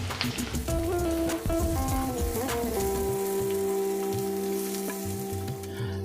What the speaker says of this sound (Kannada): ಇದೇ ರೀತಿ ಎಣ್ಣೆಯಲ್ಲಿ ಫ್ರೈ ಆಗೋದಕ್ಕೆ ಬಿಡ್ತಾ ಇದ್ದೇನೆ